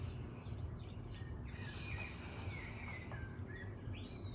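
Birdsong plays from a TV, scattered chirps and tweets coming faintly over a steady low hum, repeating irregularly throughout, with no talk.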